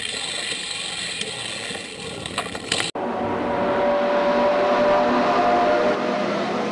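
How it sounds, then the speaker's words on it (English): Race car engines at an Indy 500 start roar loudly and steadily, with a sharp cut midway before a sustained, rising drone of engines accelerating away. "Drivers, start your engines."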